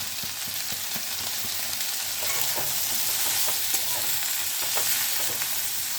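Potatoes, radish, eggplant and beans fry in a pan with salt and turmeric, a continuous hissing sizzle broken by light scrapes and taps of stirring.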